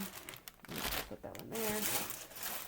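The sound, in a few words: crinkling of packaging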